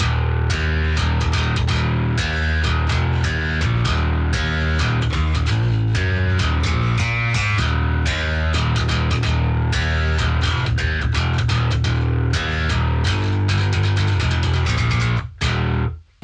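Distorted, heavily driven bass guitar played through a Quad Cortex on Jacob Kaminski's 8 main gain preset, with a Dingwall-like growl: a loud, continuous riff of chugging palm-muted notes and rhythmic accents that stops abruptly at the end.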